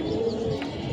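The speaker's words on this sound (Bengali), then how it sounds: "দীর্ঘ 2 দিন পর কবুতরগুলা ছেড়ে উড়ালাম।" Pigeons being let out after two days make a soft, steady cooing close by, a continuous low murmur through the short moment, with no talking.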